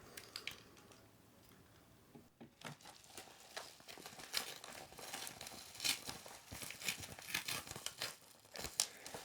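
Packaging for bike parts being ripped open and torn by hand, with close, quiet crinkling and tearing bursts that grow busier toward the end.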